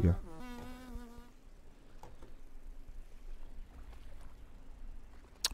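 A fly buzzes in the survival video game Grounded, its whining drone rising and falling at the start, then fading under soft game ambience, with faint clicks and a sharp sound at the very end.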